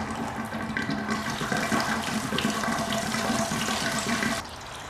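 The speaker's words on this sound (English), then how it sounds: "This hose should come loose, and then we're going to get water probably everywhere." Coolant gushing from a loosened radiator hose on a 2007 Suzuki GSXR motorcycle, a steady splashing pour of liquid that runs for several seconds and then drops off sharply near the end.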